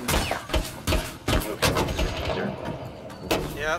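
Gunfire in Rainbow Six Siege on the Theme Park map in a bomb match, heard as a run of sharp shots and thuds spaced irregularly through the stretch, fairly close and loud, with a voice faintly in the mix.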